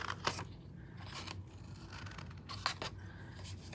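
Scissors snip through a sheet of Mossy Meadow colored cardstock for a handmade card, a few faint, quick crisp cuts up close in a quiet room.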